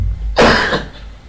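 A single loud, harsh cough bursts out close to the microphone, tailing off into a brief rasp, with a steady low hum in the background.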